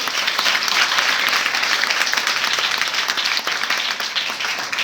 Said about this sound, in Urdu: زوردار تالیاں اپنے خدا کے لیے۔